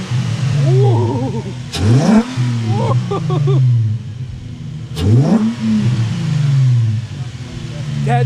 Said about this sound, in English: Rev it one time.